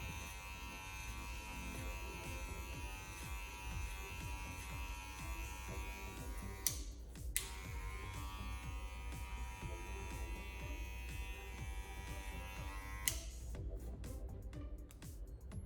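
Electric hair clippers run steadily at close range while cutting hair over a comb, a continuous buzzing drone with brief sharp clicks and short breaks as the clipper passes are reset.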